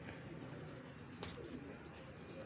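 Pigeons cooing softly in a loft, faint low calls over a steady background hiss with no talk.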